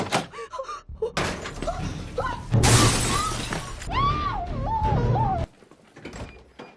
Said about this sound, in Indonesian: tiba-tiba saja ada orang mengetuk pintu dan mendobrak masuk